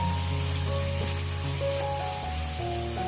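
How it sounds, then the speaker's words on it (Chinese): Minced meat sizzles steadily in hot oil in a wok over low heat, a continuous close frying crackle with soft stirring scrapes and no voices. "把肉末翻炒至变色"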